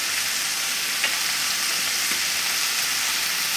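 Mushrooms sauté in butter with a salt and pepper blend, giving a steady, dense hiss of frying, close and even throughout, with a couple of faint clicks and no talking.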